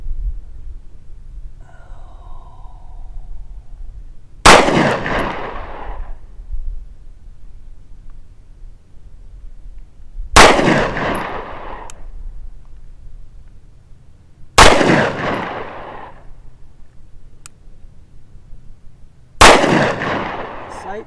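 Four sharp XD-9 pistol shots of 124 grain rounds fired at a target, spaced several seconds apart, each a loud close crack with a short ringing tail over a quiet low background.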